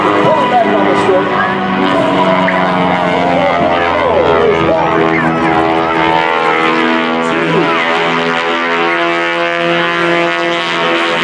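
A 1928 Travel Air biplane flown at an airshow passes with a loud, continuous droning engine and propeller roar that holds steady throughout, while an announcer's voice carries over the top.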